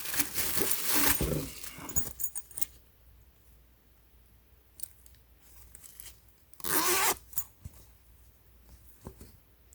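A zipper on a canvas shoe bag is pulled open in quick rasping bursts near the start, then a second long zip midway, with scattered small rustles and clicks between in a quiet room.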